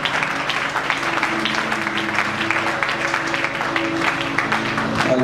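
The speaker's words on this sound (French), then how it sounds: "Est-ce que tu peux bien acclamer pour la gloire de Dieu?" Church congregation clapping and cheering together during a Sunday worship service, steady dense applause with voices mixed in throughout, loud and sustained.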